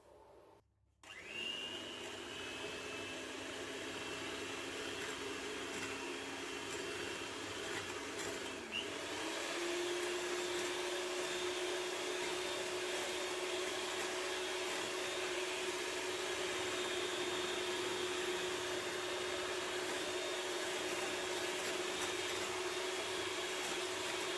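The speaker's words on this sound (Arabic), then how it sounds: "كنطلعوا البيض والسكر. غادي نستعملوا اما المضرب اليدوي او الكهربائي" An electric mixer beats eggs and sugar for gluten-free brownies, starting up abruptly and then whirring as a continuous, loud, steady motor whine with a slight shift in pitch partway through.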